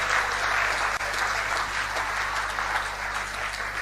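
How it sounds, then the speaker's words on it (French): Church congregation applauding together at a service, a dense, steady wash of many hands clapping close and loud, sustained without pause and with no speech over it. "Clap for Jesus Christ."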